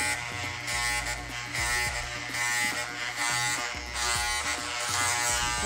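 Electric hair clippers buzz steadily and up close throughout, blending a haircut for a baseball player with no talk over the hum.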